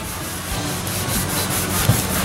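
A scrub pad scrubs baked-on grease off a grill, back and forth against the hard surface in a steady rasping rhythm, close and fairly loud, with no voices.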